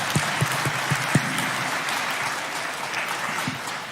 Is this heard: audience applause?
yes